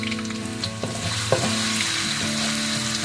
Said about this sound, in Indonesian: Kita panaskan minyak untuk menumis bawangnya.